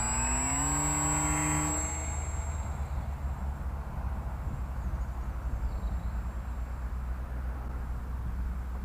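A converted Lidl RC Big Bird model plane flying on the coast runs its motor at half throttle, a steady mid-level whine with a brief rising tone at the start, set against continuous wind noise and no speech.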